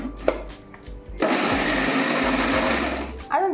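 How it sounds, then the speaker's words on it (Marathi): A kitchen mixer grinder whirs loudly and steadily, grinding roasted spices for a raw-mango pickle, with short bursts before it settles into a continuous drone and then cuts off. "मग ते मिक्सरला फिरवून घ्यायचं आहे"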